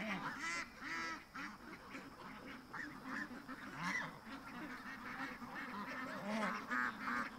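Ducks quack and honk repeatedly in a muddy yard, a busy overlapping chorus of calls close by, rising and falling as the flock is herded along.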